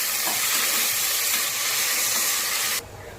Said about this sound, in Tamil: இதில் கொஞ்சம் மஞ்சள், உப்பு. இப்போ இது நல்லா வதக்கிக்கலாங்க.